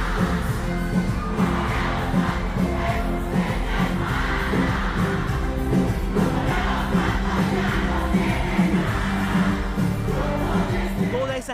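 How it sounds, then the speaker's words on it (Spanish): A large concert crowd in Spain cheers and sings along in a dense, continuous roar, with whoops and voices blending over a steady, loud wall of crowd noise for the whole stretch. "Esa gente que lo aplaude y corea sus canciones es en un concierto en España"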